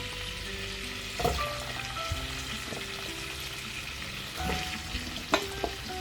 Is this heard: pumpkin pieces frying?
yes